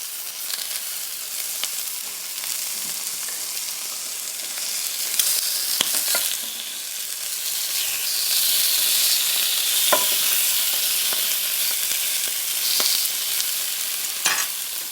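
Food sizzles and fries steadily in a hot pan as it cooks and is flipped over, a continuous close hiss with occasional stirring scrapes and clicks and no talking.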